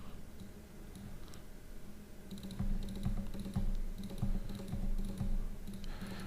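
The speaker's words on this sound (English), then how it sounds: "I'm double clicking and then hitting 0 on every single box." Computer keyboard and mouse at a desk, a quiet stretch followed by a run of close, crisp key taps and clicks in an irregular rhythm.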